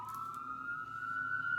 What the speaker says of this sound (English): there's an ambulance coming through. I live on a main road